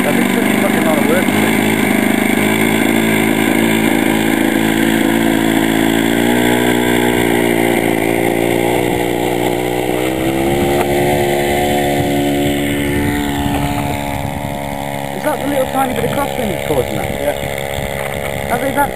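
The small diesel engine of a Bowden Mouse model biplane runs loud and close with a steady buzzing drone that shifts pitch partway through, while a person talks over it.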